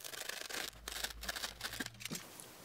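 A jumbo foam pool noodle is cut close up for a foam sword guard, giving soft, quiet squeaky scraping and sawing strokes in short bursts with brief pauses.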